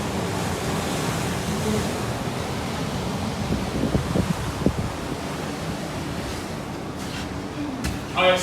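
Ocean waves surge and wash at Cape Coast Castle in a continuous roar with wind buffeting the microphone, broken by a few heavier swells and light knocks.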